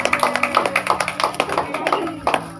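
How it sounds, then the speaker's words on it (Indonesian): A group of children clapping their hands in a quick, steady rhythm, each clap sharp and close, with voices mixed in among the claps. "Tepuk tangan"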